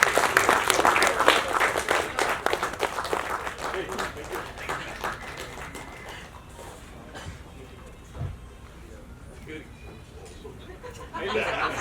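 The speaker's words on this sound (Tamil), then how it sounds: "ஐ திங்க் படக்குழு இவங்களுக்கு ஒரு நல்ல கைத்தட்டல் கொடுக்கலாம்னு நினைக்கிறேன்." A crowd at a 50th-day celebration for the Tamil film Joe breaks into loud applause for the film's lyricists; the clapping is dense at first, then thins and fades under voices before a brief swell at the end.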